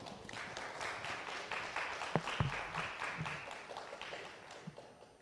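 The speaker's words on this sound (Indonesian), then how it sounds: "Berikan tepuk tangan yang meriah untuk paslon nomor 1." An audience claps for candidate pair number 1 at a Magelang 2020 mayoral election debate, a sustained moderate wash of applause with a few louder knocks partway through and no speech.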